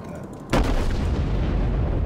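Battleship main guns on the New Mexico fire a salvo of armour-piercing shells in World of Warships, a sudden loud boom followed by a long rumbling roll that fills the rest of the moment.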